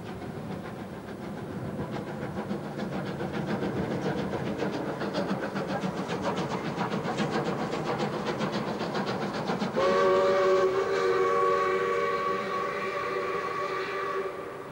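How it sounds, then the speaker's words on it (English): Steam locomotive number 621 runs on rails, its rhythmic chuffing and rolling wheels building steadily, then a long whistle sounds near the end over the continuing train noise. "Number 621 is now back on home rails, having passed off the Victorian Railways network at Border Town."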